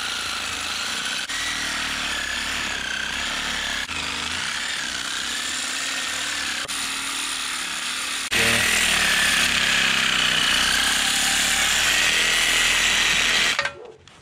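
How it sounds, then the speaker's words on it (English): A reciprocating saw fitted with a long 12-inch metal blade cuts through a thick front axle, giving a loud, continuous buzzing grind that grows harsher and louder partway through before stopping abruptly near the end; no talking. "sawzall and a really long blade. It's a 12-inch blade for metal"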